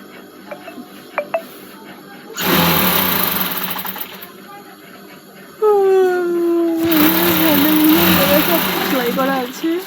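An electric sewing machine stitches bag handles in two loud, steady whirring runs separated by a pause, with faint talk and background sounds in the gaps.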